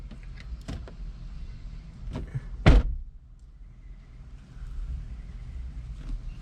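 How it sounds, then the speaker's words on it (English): A 2006 Honda Accord car door opening, a single sharp latch clunk partway through amid quiet faint rustling and handling noise. "Open the door."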